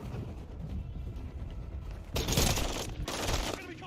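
Rapid bursts of automatic gunfire in a Call of Duty video game, loud and dense in two volleys in the second half, over a busy background of game noise.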